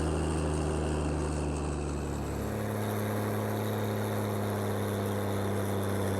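A farm tractor in Farming Simulator 19 climbs a big hill, its engine a steady, loud drone with a deep hum that shifts lower partway through and holds on without a break.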